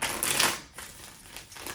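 Tarot cards being shuffled by hand, a brief papery riffle burst at the start followed by softer sliding rustles, close and fairly faint.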